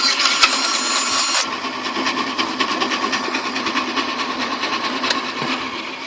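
A free old Walker Turner bandsaw running and sawing, with a loud mechanical whine at the start that drops after about a second and a half into a steadier, quieter hum with a faint rattle.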